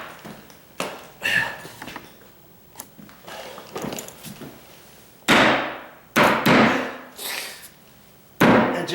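Hammer striking and prying nails in condo floor planking during demolition, several sharp loud impacts with scraping and creaking in between, close by, no talk.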